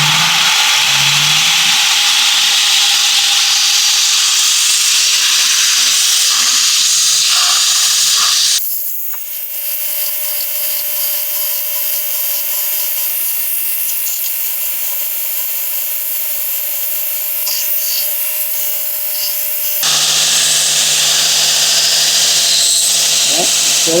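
A belt grinder in a metal workshop runs loud and close with a bright, steady hiss. The whine changes sharply in the middle section as if under load, then returns to its earlier tone.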